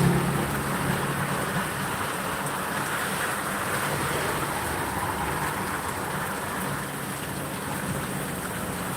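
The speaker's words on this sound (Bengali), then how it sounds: "প্রচুর বৃষ্টি" Heavy rain pours down outdoors as a dense, constant hiss that stays steady and close for the whole stretch, with no voices.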